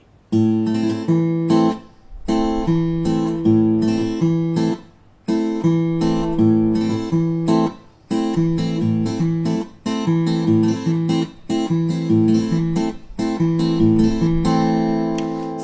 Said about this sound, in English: That's the rumba rhythm.